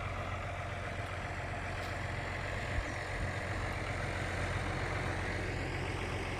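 A tractor engine drones steadily while pulling a Lemken Smaragd cultivator over soybean stubble, a low, even rumble heard from inside the cab, with one small knock partway through and no voices.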